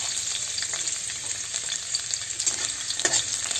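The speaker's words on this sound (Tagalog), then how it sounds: "kapag mainit ng mantika, isunod nating ilagay ang bawang" Garlic fries in hot cooking oil for an egg and tomato dish, a dense continuous sizzle with brief stirring scrapes, close and fairly loud, no speech.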